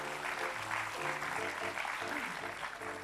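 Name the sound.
applause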